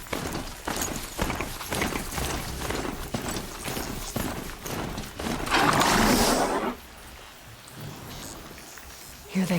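A Charger, a goat- or ram-like machine creature in Horizon Zero Dawn, runs with rapid rhythmic hoof-like clopping, loud and close, followed by a brief rushing burst before it fades.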